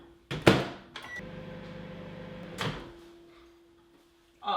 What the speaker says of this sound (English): The easy way to get this out is to bung it in the microwave.